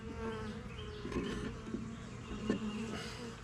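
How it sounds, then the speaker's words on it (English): Worker honey bees buzzing on a hive frame while queens are checked, a dense, close, continuous drone with shifting pitch and occasional louder passes. "Yeah, that's just worker bees."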